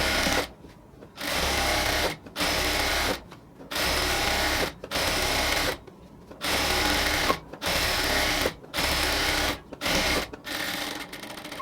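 A sewing machine stitches a seam on a pant-cut salwar, running in about nine short bursts of steady mechanical whirring separated by brief pauses, close and clear.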